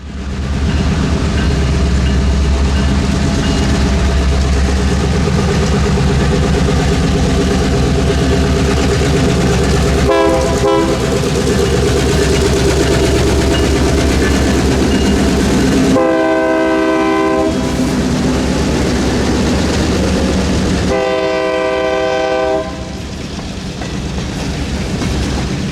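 A CF7 diesel locomotive, number 48, leads a freight train on the Florida Midland Railroad's Lake Wales branch through downtown Lake Wales, rumbling loudly up close with heavy low engine drone and sounding several long, blaring horn blasts.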